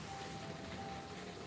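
Steady rain falling during a rained-out outdoor market, a dense, even hiss that continues without pause and has no talk over it.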